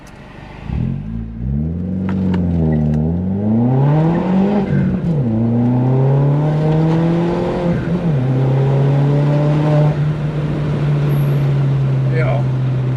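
A VW Polo 9N3 GTI pulls hard through the gears, engine tone climbing and dropping with each shift before settling into a steady drone, heard from inside with windows open while people talk.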